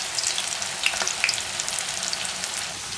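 Oats and spinach tikki patties fry in a pan over low heat, giving a steady, even sizzle with small scattered pops throughout and no voices.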